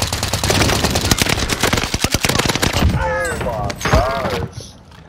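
Fast automatic bursts from an NZ41 rifle in Warzone rattle loudly for about three seconds, then fade as voices talk over the quieter end.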